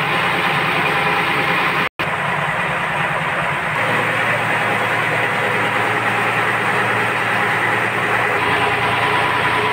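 A RoRo ferry's turbocharged marine engine in Surigao, fitted with a Power Up Fuel Combustor, drones in a loud, steady low rumble that runs throughout, broken once by a momentary dropout.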